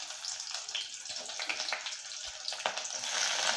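Mustard seeds, chana dal and small shallots frying in hot oil for a Tamil cabbage poriyal, giving a steady, dense crackling sizzle that holds evenly throughout with a few sharper pops.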